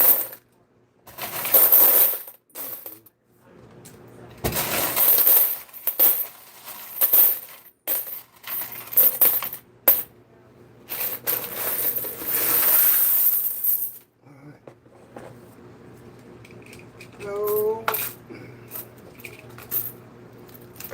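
Quarters clatter and drop inside a coin pusher machine in repeated bursts of metallic jingling and tinkling, separated by short quiet gaps, with a faint hum underneath.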